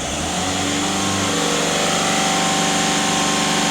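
Engine of a VW Passat B7 1.6 TDI revving up on its own, the diesel climbing from a low idle to a higher, steady, strained drone over a few seconds, loud and close, with no talk.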